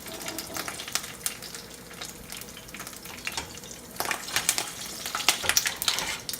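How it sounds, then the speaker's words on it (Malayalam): Curry leaves go into hot coconut oil and crackle with bright, uneven spitting pops that swell louder toward the end, close up and with no talk. "ഇപ്പോൾ വെളിച്ചെണ്ണ ചൂടായി വരുമ്പോൾ നമുക്ക് അതിലേക്ക് കുറച്ച് കറിവേപ്പില ചേർത്ത് കൊടുക്കാം."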